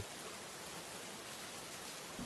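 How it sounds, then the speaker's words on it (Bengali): Soft, constant rain hiss, fairly faint and unbroken, heard alone for a couple of seconds. "কি যে বৃষ্টি শুরু হলো! কাল থেকে একরকম বৃষ্টি হয়েই চলেছে।"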